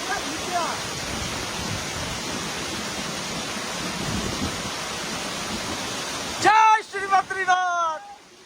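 Vasudhara waterfall pours in a steady, loud roar of falling water that fills the scene, then cuts abruptly near the end as brief voices take over.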